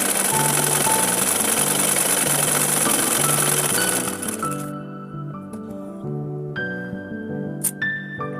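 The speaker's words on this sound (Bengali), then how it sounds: "সবগুলো সেলাই এভাবে আমি ধীরে ধীরে ধীরে ধীরে সবগুলো সেলাই দিয়ে দেবো" A sewing machine stitching a kameez runs with a steady, loud mechanical whir for about four seconds, then stops, leaving a faint hum and a few light clicks.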